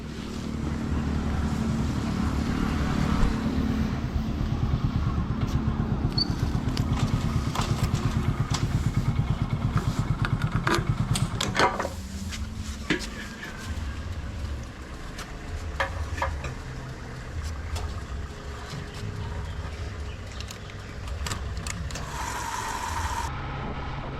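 Motorcycle ridden along an empty forest road in the Jaipur forest of Bankura, engine droning loud and steady close by with wind rumble, easing slightly after the midpoint with some rattling clatter.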